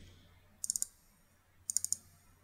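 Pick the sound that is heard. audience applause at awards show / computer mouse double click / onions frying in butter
computer mouse double click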